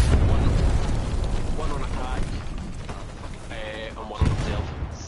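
A satchel charge detonates in a Hell Let Loose WWII battle, a heavy, deep rumble that booms and slowly fades. A second sharp burst follows near the end, along with mechanical clanks and faint voices.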